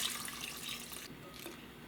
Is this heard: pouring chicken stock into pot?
yes